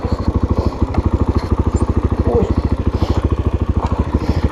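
A Kovi Lite 300 KT Chinese enduro motorcycle idles close by with a fast, even, thumping single-cylinder pulse that stays loud and regular throughout, with a faint voice underneath.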